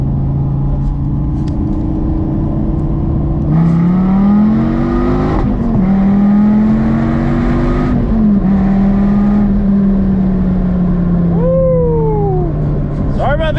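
A Dodge Viper's engine revs loud and close, its pitch climbing and falling through several steady pulls, with a sharp blip near the end.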